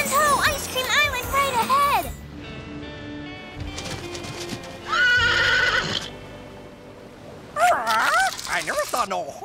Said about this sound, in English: I never saw no horse do that before.